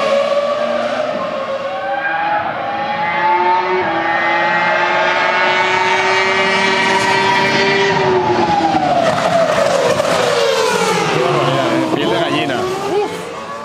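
A Renault R25 Formula 1 car at Yas Marina, its engine screaming at very high revs, loud and sustained, with pitch rising and falling as it runs past and shifts through gears, under faint commentary.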